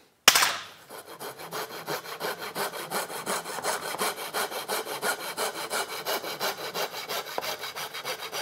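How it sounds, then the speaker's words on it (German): A hand saw cuts through a wooden dowel in steady rhythmic back-and-forth strokes, close and rasping, after one sharp knock at the start, with no talk. "Mit der Säge."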